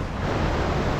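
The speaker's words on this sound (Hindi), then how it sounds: "झरना का जो आवाज़ है कितना तेजी से यहाँ से सुनाई दे रहा है।" Hogenakkal waterfall roars as a dense, steady wash of broadband noise, loud and continuous with no voices over it.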